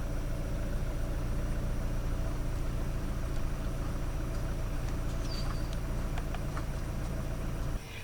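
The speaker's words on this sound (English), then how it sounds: "Now that our engine has idled for approximately 5 minutes, it's fairly warm" A warm Hyundai 2.5-litre turbo car engine idles steadily at close range, a continuous low rumble with no revving, cutting off abruptly near the end.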